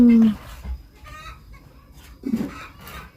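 Hens clucking near a house under construction, a loud close squawk at the start and another burst of clucking later, with someone talking over it.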